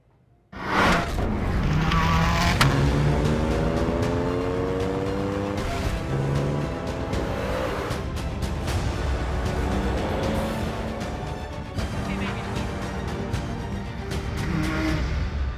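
Race cars at the Goodwood Festival of Speed start up and accelerate hard, their engines roaring loudly through rising and falling gear sweeps, with some tyre squeal and a crowd-like wash behind the engine noise.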